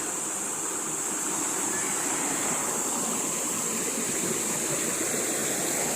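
A wide river with no waterfall rushes steadily over rocks, producing a loud, continuous broadband roar with no breaks or voices.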